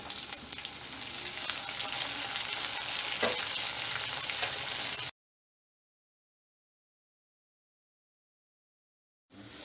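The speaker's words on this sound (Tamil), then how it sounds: "இப்போ தக்காளி வெந்துக்கிட்டு இருக்குது" Tomatoes sizzle steadily in oil over cooked onions for a garlic kulambu, a close, even crackle that cuts off abruptly into silence and then briefly resumes.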